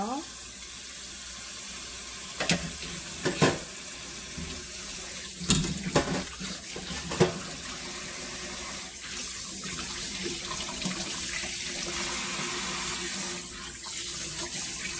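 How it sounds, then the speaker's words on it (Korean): Running tap water pours steadily into a sink while raw chicken pieces are rinsed, with a few clunks and knocks of handling over the continuous flow. "끓는 물에 한번 씻어줄게요"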